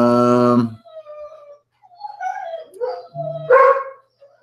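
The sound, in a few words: dogs barking as someone comes home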